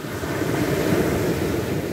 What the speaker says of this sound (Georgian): დიდი ტალღები წამოვიდა.